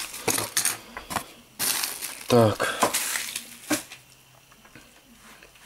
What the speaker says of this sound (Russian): сейчас бумагу все уберу